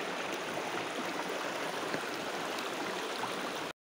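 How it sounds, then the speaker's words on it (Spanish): A river carrying plenty of water rushes steadily in a continuous broadband roar, close and even throughout, cutting off abruptly just before the end. "Es que este río siempre lleva mucha agua, ¿no?"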